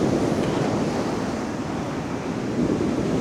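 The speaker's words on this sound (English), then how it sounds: "Nothing better though, just listening and watching the sea on a rough day." Rough sea waves at high tide in Blackpool on a stormy day, a loud continuous wash of surf mixed with wind buffeting the microphone, swelling slightly near the end, with no one talking.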